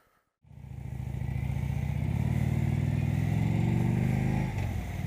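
A motorcycle engine fires up after a brief silence, then holds a loud, close, steady rumbling idle with some revving that eases off near the end.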